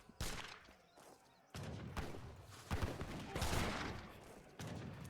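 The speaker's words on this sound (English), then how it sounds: "The outpost is still firing." An outpost firing in Age of Empires III sounds as repeated gunfire volleys and crackling battle noise, with a voice talking over the action.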